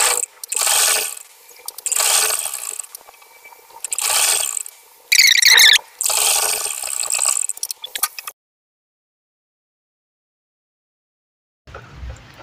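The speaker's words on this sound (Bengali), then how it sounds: "দেখুন ধরে আমি সেলাই করে দেখিয়ে দিচ্ছি।" An electric sewing machine hems palazzo pants in several short whirring, clattering runs close by, then falls silent, with a brief rustle at the very end.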